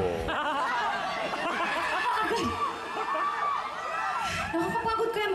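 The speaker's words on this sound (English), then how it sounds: "The crowd is into it." Concert audience cheering for a live singer, a dense wall of shouts, whoops and excited voices from a large crowd, steady and loud throughout with individual cries rising above the mass.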